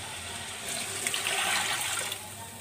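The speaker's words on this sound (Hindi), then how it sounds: "अब हम इसमें ऐड करेंगे 4 गिलास पानी" Four glasses of water poured into a pot of browned chicken for kabuli pulao, a continuous splashing gush that swells in the middle and eases slightly, with no talking.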